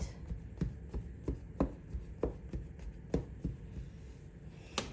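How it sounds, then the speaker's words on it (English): A spoon pokes holes into a hot, freshly baked coconut poke cake, making a run of soft, close, evenly spaced dull thuds and taps, about two per second. "I'm going to go ahead and use my spoon and just poke holes in it"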